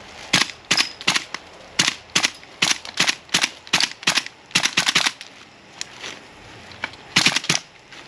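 A gas blowback airsoft rifle fires in winter cold, about eighteen sharp, loud, close cracks in quick irregular bursts, each with a mechanical bolt clack, and brief pauses between groups.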